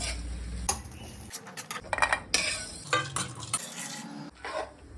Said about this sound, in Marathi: कढई गरम झालेली आहे आपण त्यात थोडस तेल ऍड करूया कांदा भाजून घेऊया